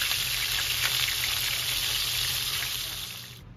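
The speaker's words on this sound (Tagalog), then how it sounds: "Igigisa na natin siya, no, para maluto natin." Meat sautés in hot oil in a pan, giving a loud, steady sizzle that holds and then fades toward the end, with no talking.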